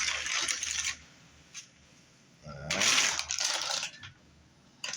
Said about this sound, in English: good old trusty bag of oatmeal. We'll just do a handful here